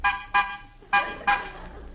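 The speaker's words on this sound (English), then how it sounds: "Honk the horn." Old-time radio comedy sound effect of a car horn honking, four short toots in an uneven pair-and-pair rhythm, loud and close.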